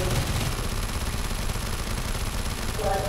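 Sustained automatic M4 rifle fire in Black Ops 3 custom Zombies on a Tron-themed map, a dense loud rattle of rapid shots running the whole way with game effects layered in, no talking.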